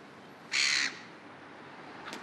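A loud, close seagull calls once in a single harsh squawk lasting about a third of a second, outdoors by a chip shop in Sudbury, with a faint short cry near the end and no talk.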